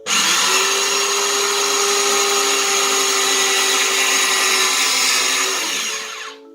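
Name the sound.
electric grater grating zucchini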